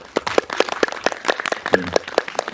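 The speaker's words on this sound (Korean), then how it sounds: "마지막으로 좀 부탁드리겠습니다. 박수를." An audience in a cinema claps after a screening of an independent film, a brisk, fairly even run of handclaps close by, with a brief voice near the end.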